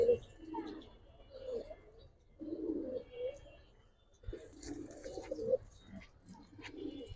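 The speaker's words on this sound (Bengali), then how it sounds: "এই দেখেন রিং চোখের কবুতর।" Ring-eyed Giribaz pigeons coo softly in repeated low, throaty bursts, fairly quiet and close, with short pauses between the phrases.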